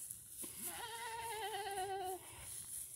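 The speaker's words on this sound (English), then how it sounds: "I hear a goat." A goat bleats once near Goatman Lake, a faint, wavering call lasting over a second, heard alone against quiet outdoor background noise.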